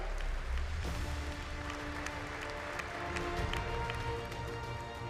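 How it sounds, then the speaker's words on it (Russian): Audience applause fills a hall at an All-Russian forum on developing small towns and historic settlements: dense, steady clapping running the full length at an even level, with a few sharper individual claps standing out. "Аплодисменты."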